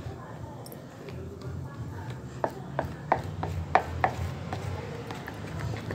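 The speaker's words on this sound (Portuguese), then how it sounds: "Vou estar misturando devagarinho aqui." A spoon slowly mixes sausage pie batter with baking powder in a bowl, making a series of soft, evenly spaced taps and scrapes over a low background hum.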